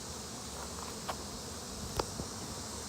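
Steady buzzing of honeybees around a row of beehives facing the same direction outdoors among wildflowers, a dense continuous drone with a few faint clicks, no voices.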